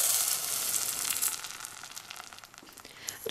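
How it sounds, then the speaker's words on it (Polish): Rice grains frying in melted butter in a hot pan, giving a steady bright sizzle that is loudest at first and eases slightly, with faint stirring scrapes and no voices. "Ryż mieszam dokładnie z masłem i smażę jakieś 2-3 minuty"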